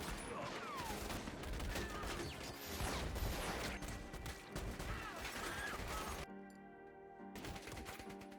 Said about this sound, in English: A gunshot shattered the quiet atmosphere of the tavern.